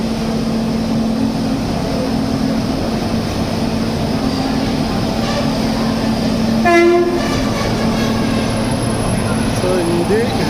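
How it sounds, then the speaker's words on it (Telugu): A Bharat Rail locomotive of the Tirupati to Vasco da Gama train hums loudly and steadily nearby at a station, with a brief horn-like tonal blast partway through and a dull rumble underneath. "train engine"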